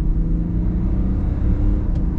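A car engine runs steadily during a test drive of a used car, a continuous low rumble and whir with even, smooth cylinder firing and no knocking, loud and close throughout.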